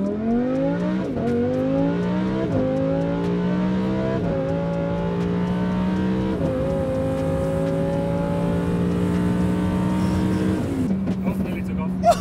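A Lamborghini's 5.2-litre V10 engine revs hard and climbs through several gear changes, a loud, steady, close roar that drops back at the end.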